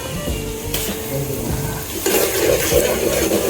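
Garam masala and ginger-garlic paste fry in hot oil while being stirred for a mutton dish, giving a close, continuous sizzle with scraping stir strokes that grow louder toward the end.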